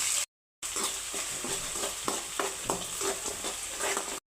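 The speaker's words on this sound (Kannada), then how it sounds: "ಇವಾಗ ಸಾಸಿವೆ, ಬೆಳ್ಳುಳ್ಳಿ, ಜೀರಿಗೆ, ಕಡಲೆ ಬೀಜ, ಕಡಲೆಬೇಳೆ ಜೊತೆಗೆ ಮೊಳಕೆ ಹೆಸರು ಕಾಳು ಹಾಕ್ತಾಯಿದ್ದೀನಿ. ಫ್ರೈ ಮಾಡ್ಕೊಂಡು" Mustard seeds, garlic, cumin, peanuts, chana dal and sprouted mung beans fry in hot oil, giving a close, steady sizzle with irregular popping crackles and stirring, after a brief silent gap at the start.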